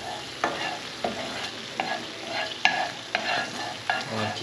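Pork sizzling in a pan while being stirred, steady frying crackle broken by repeated scrapes of a utensil at a fairly even rhythm, close and clear with no talking.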